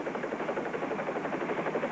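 A small helicopter's engine and rotor drone steadily and loudly, with a fast, even throbbing pulse and no pauses.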